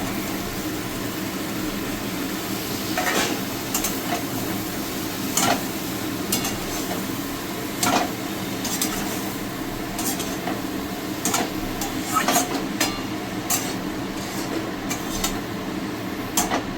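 A spoon clatters and scrapes against a pan while eggplant is stirred into frying spiced masala with boiled potatoes, with repeated sharp metal knocks over a steady low sizzle and no talking.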